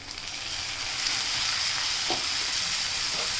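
Chopped onion and half a bowl of tomato fry together in a pan over a low flame for paneer bhurji, a steady close sizzle and hiss running throughout with a couple of faint stirring scrapes.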